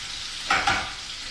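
Beef braciole searing in a hot pan gives a steady sizzle with a brief louder hiss and stir of movement midway, close and alone with no talk.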